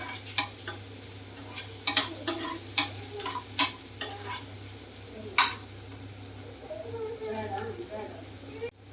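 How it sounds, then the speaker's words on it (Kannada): Onions frying in a pan while being stirred, a steady low sizzle under repeated sharp scrapes and taps of a utensil against the pan, with a person talking throughout. "ಈರುಳ್ಳಿ ನಮಗೆ ಸಾಫ್ಟ್ ಆಗಬೇಕು, ಅಲ್ಲಿವರೆಗೂ ಫ್ರೈ ಮಾಡ್ಕೋಬೇಕು."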